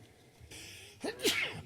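A single sharp sneeze during a city council meeting, fairly faint and nearby, preceded by a quick intake of breath.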